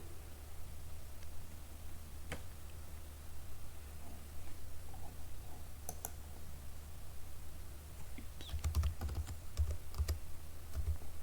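Password typed on a computer keyboard, sparse quiet key clicks over faint background hiss, then a quicker burst of keystrokes toward the end.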